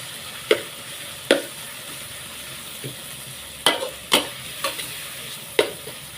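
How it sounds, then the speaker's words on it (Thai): Pork belly stir-fries in a pan for a cabbage dish, a steady sizzle broken by several sharp scraping stirs of the utensil against the pan, close and with no talking. "พัดหมูสามสั้นให้สุกก่อนเนาะค่ะพี่น้อง"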